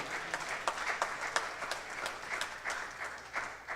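Light applause from a small congregation during a church service, scattered steady clapping throughout, moderately faint and fairly close.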